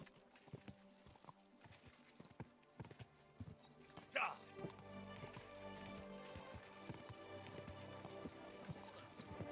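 A horse's hooves clip-clop at a steady walking rhythm in Kingdom Come Deliverance II, close and clear, with a brief whinny partway through and a busy medieval town bustling around it.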